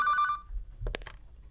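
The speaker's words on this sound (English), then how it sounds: "we do have a call from Miss Banta, and we're gonna put that on hold" A telephone rings with an incoming call during a radio call-in show, giving one short, bright, tonal ring that cuts off, followed by a few soft clicks and handling noises.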